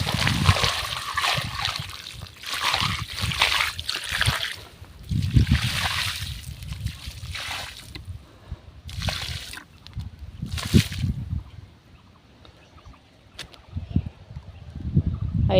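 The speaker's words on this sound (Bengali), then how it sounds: "এখানে দিতে হবে জল আবার।" Tap water splashes and trickles onto young chili plants in a garden bed, coming in uneven bursts of splatter with quieter dribbling gaps between them, close by and without talk.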